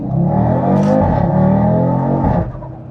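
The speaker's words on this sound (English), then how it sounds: "this car has an Venturi intake, which sounds really good, honestly." An Audi RS3 (8Y) engine with a Venturi intake drones loudly and steadily up close, its deep intake roar swelling slightly before easing off near the end.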